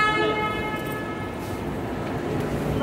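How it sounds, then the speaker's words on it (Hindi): Train rumbling along with a steady, loud rolling noise and a faint tonal hum, continuous throughout, with no talking. "तुक तुक तुक तुक रेलगाड़ी"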